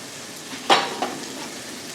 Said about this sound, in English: you'll see that sizzle is all the juice that's being released because it was frozen